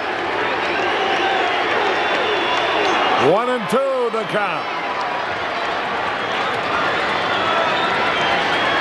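Dense stadium crowd roar from fans at a 1986 St. Louis Cardinals at Chicago Cubs baseball game, a loud sustained cheer filling the whole stretch while a commentator talks over it.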